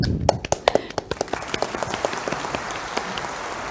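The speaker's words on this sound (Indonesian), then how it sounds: "Kita berikan tepuk tangan untuk Pak Jonggi." An audience at a corporate anniversary event applauds Pak Jonggi after a talk show session, starting with a few sharp, distinct claps that quickly merge into a moderate, even round of applause from a modest crowd.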